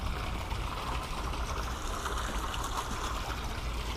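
Water discharging from a superyacht's water-cooled generator exhaust makes a steady splashing trickle with a low rumbling hum beneath it, continuous and moderately quiet.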